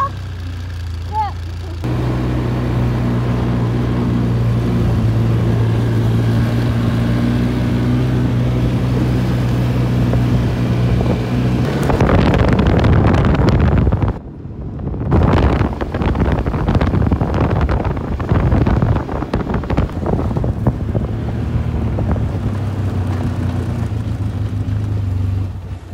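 ATV quad bike engine droning steadily while riding near a cottage, with heavy wind buffeting the microphone, a brief lull midway, then the motor resuming.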